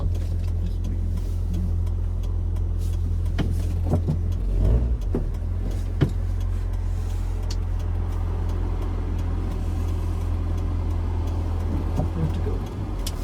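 A 1998 MGF with rusty brakes after sitting idle drives along, its steady engine and road rumble continuous and close throughout, with a brief louder surge near the middle.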